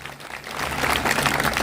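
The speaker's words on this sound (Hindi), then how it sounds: "जोरदार तालियों से उनका स्वागत करें।" Applause at a mass wedding greeting the chief guests, a crowd's clapping swelling from sparse to a dense, steady patter over a low hum, heard without talk.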